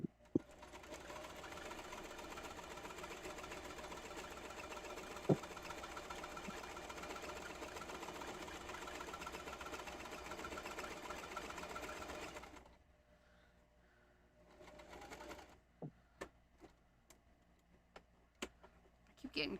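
A sewing machine stitches steadily for about twelve seconds with a fast even mechanical whir, then stops, leaving a few scattered clicks and light handling noises.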